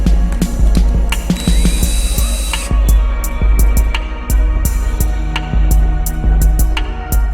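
A ratchet tightens the primary case bolts on a Harley-Davidson motorcycle, with quick repeated clicking bursts close by, broken by brief pauses and a steady hum in the background.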